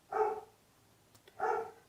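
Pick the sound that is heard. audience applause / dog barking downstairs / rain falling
dog barking downstairs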